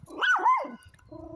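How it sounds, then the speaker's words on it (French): A single dog gives one sharp bark outdoors, loud and close, followed by a quieter tail of faint background sound. "parce que tu aboies si tu les vois de loin"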